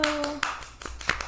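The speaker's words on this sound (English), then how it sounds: "Slow clap." Several slow, spaced hand claps ring out in a podcast studio, one roughly every few tenths of a second, close and fairly loud, with a voice briefly audible at the start.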